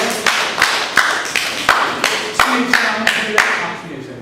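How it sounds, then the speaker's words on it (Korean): Rhythmic group clapping during a church worship service, roughly a dozen sharp claps in steady tempo, fairly close and loud, with a voice carrying over it. "박수"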